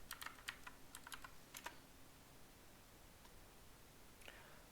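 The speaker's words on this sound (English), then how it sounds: "Type your password." Soft keystrokes on a computer keyboard as a password is typed, a quick irregular burst of taps followed by a pause and one final press, all faint and close in a quiet room.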